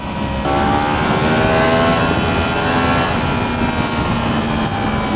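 A Yamaha YZF-R1M sport motorcycle engine revs hard on the throttle, jumping after a brief start into a loud, sustained, high-pitched roar that holds steady and close with no talk.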